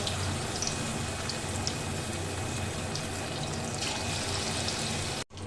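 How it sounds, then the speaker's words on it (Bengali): Chicken pieces deep-frying in white oil in a wok, giving a steady, dense crackling sizzle that holds evenly throughout with no voices. "কড়াইতে দিয়ে দিয়েছি সাদা তেল এবার আমি এর মধ্যে দিয়ে একে একে চিকেনটাকে ভালো করে ডিপ ফ্রাই করে ভেজে নেব"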